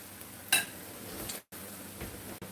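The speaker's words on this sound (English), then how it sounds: "We're going to let these fry a minute." Salmon patties fry in a pan, giving a soft continuous sizzle with a sharp metallic clink near the start and a couple of brief dropouts, and no talking.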